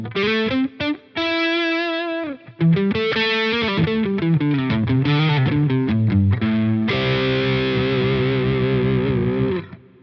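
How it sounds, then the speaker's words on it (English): Electric guitar driven through a distortion pedal gives an overdriven tone, with bright repeated notes, a few quick runs and a long sustained chord at the end, loud and close. "a very overdriven sound"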